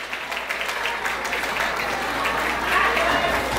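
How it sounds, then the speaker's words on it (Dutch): Audience applause at a farewell ceremony, a dense, lively clatter of many hands clapping at fairly close range for a few seconds, with voices mixed in. "Maak een applaus voor ze."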